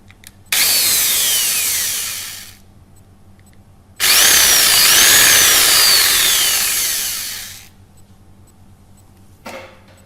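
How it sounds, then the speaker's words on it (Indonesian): Electric drill boring holes for antenna elements, two loud close bursts of whining drilling, the second longer and winding down, with a brief tool noise at the end and no talk. "selanjutnya kita lakukan pengeboran"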